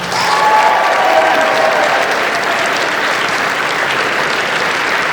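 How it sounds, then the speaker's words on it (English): A live audience at a PAX East 2020 comedy performance gives a warm round of applause, dense and loud, sustained evenly throughout with a few faint whoops early on. "Everyone, let's give them a warm round of applause."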